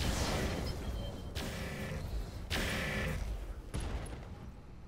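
Mech weapons fire in the Roguetech battle game, a string of heavy booming volleys in quick succession, loud and rumbling with bursts every second or so.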